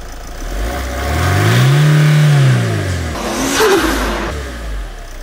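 A 2.1 litre four-cylinder diesel engine with 305,000 miles revs up close, its pitch climbing and falling in one long rev, followed by a second shorter blip of the throttle.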